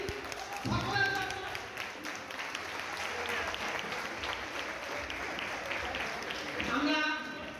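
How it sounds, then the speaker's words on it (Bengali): Audience applause at a school reunion ceremony, a steady wash of many hands clapping that swells near the start and again near the end, with voices mixed in underneath. "একটা জোরে হাততালি সকলের জন্য।"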